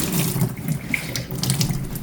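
Rinse water is poured out and drained, giving a steady splashing gush that runs throughout this short moment.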